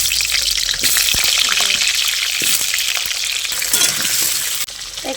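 Potatoes fry in hot oil for a turkey curry, giving a loud, steady sizzle with a few stirring scrapes and clinks, close by, cut off briefly near the end.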